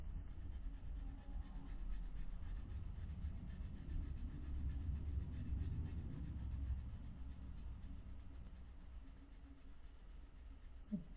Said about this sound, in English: All right, let's sand this one.